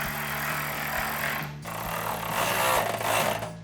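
A 13mm socket drives and tightens mounting bolts for a bull bar with skid plate on a 2019-2024 RAM 1500. A rapid, rattling mechanical buzz runs in two bursts separated by a short pause, fairly close and without talk.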